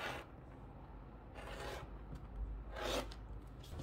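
Quiet, close scissor cuts trimming off a section of joined fabric for a tool roll pouch, three soft rasping snips separated by short pauses.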